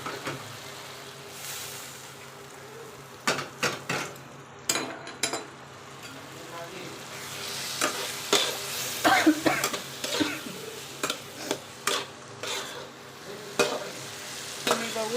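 Steamed cluster bean pods go into a pan and are stirred. A spatula scrapes in repeated, uneven strokes over a soft, low frying sizzle, with an occasional cough-like sound.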